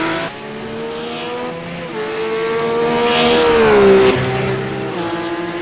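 RUF GT3 race car engines in the iRacing game at the Bathurst circuit, a loud, sustained engine whine that climbs in pitch as the car accelerates, peaks, then drops back under gear changes, with no talk.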